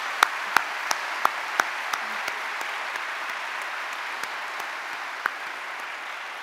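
Sustained audience applause at a medical school white coat ceremony for the MD class of 2025, a dense steady clapping texture with a few sharper nearby claps standing out early on.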